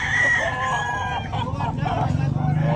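A fifteen-month-old Lemon bloodline rooster at a Tabunok, Cebu market crows loudly and close, a single drawn-out call against a background murmur of crowd voices.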